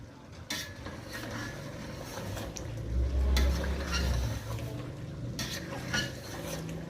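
A spoon scrapes and clinks against a metal pot while biryani masala with plums is stirred, a steady run of soft scraping strokes and occasional knocks, close and fairly quiet.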